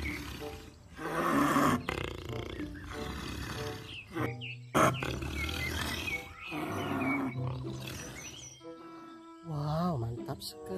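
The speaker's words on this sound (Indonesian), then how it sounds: "Ini hewan cheetah" A toy cheetah plays roaring big-cat growls, loud and repeated, under and between a person talking cheerfully.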